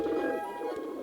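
A soft, low pigeon coo is heard close by and fairly faint, a single steady throaty call running the whole brief moment with no voices over it.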